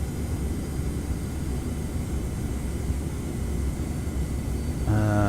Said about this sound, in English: So let's give her some power. And we'll start taxiing out.